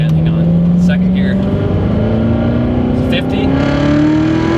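A 2015 Corvette Z06 on Michelin Pilot Sport Cup 2 tires revs and accelerates hard in second gear, its loud close engine note climbing steadily in pitch, with brief speech over it.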